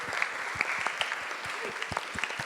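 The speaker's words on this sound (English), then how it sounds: "Please give him a round of applause for making this possible." A modest audience at a concert gathering claps, with scattered distinct hand claps rather than a dense roar, steady and moderately close for a couple of seconds.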